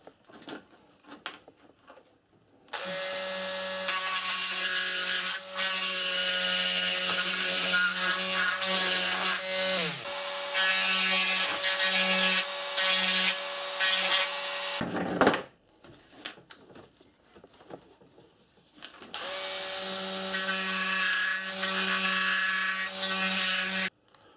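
A mini drill fitted with a burr grinds material from an Atlas Editions Gresley model locomotive, a loud steady high-pitched whine in long runs with a brief stop and restart.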